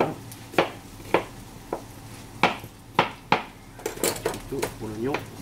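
A knife chops onions on a cutting board in sharp, separate knocks, slow at first, then a quicker cluster near the end, with a voice briefly heard.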